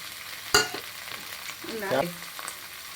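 Chopped cabbage goes into a hot pan with onions and green chillies for eggless vegetable fried rice: a sharp clatter, then a soft sizzle and stirring scrapes, fairly quiet and close, with no talking.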